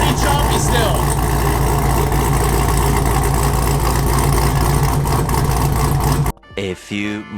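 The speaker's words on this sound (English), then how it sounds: "let's hear the chop right now and what the car sounds like before." A Camaro with a choppy tune idles loudly and steadily close by, its lopsided low rumble filling most of the clip before cutting off, with brief faint sounds after.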